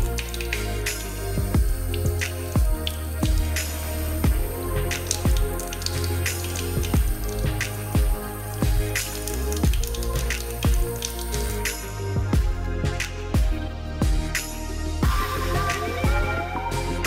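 Fresh basil leaves are washed in water, with continuous splashing, dripping and sloshing close by at steady loudness, alone without speech.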